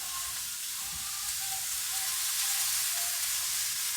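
Continuous hissing sizzle of steak searing in a hot pan, even and fairly loud, with no voices.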